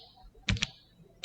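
A few quick keystrokes on a computer keyboard while entering the ipconfig command, two close taps followed by a single later tap, fairly faint with quiet room tone.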